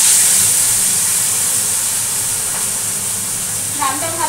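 Mixed fish frying in a pan for a fish curry with potato and eggplant, giving a loud, steady hiss of hot oil close by that eases slightly, then a few brief tonal chirps near the end.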